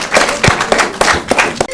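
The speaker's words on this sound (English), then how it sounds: "Let's give them a round of applause" An audience on a school quiz show claps for a competing team at the end of a round. The clapping is loud and close, with distinct, roughly rhythmic claps that stand out over the crowd's brief applause.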